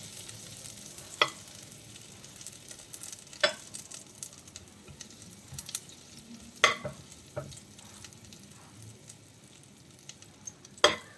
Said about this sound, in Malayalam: ഇനി നമ്മളൊരു പാൻ അടുപ്പത്ത് വെച്ചിട്ട് അതിലേക്ക് കുറച്ച് ബട്ടർ ചേർത്ത് കൊടുക്കാം.